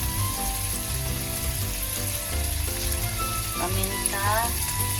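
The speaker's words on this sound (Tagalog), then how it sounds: "igigisa natin tong bacon" Bacon sautéing in a pan with garlic for Spanish-leaf fried rice, a steady sizzle running throughout under loud background music, with no talking.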